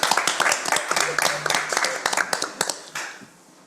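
A short burst of applause from the audience at a school board meeting, with scattered claps that thin out and fade toward the end.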